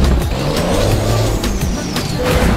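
Car tires squeal and skid loudly and close as another car cuts in, with the engine roaring under the screech through the whole moment.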